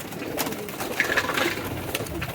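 Pigeons cooing close by in a loft of pairing birds, soft repeated coos over a steady background murmur of other birds.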